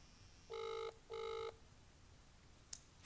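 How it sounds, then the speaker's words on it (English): A telephone on loudspeaker rings twice in a clean double burst of steady tonal pulses, followed by a short click, with no talking. "So hopefully it's just ringing."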